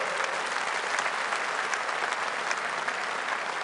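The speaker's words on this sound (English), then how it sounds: "Give Richard a round of applause." A crowd at a Reform UK political rally applauds Richard Tice, the party's deputy leader, in loud, continuous clapping with no voice over it.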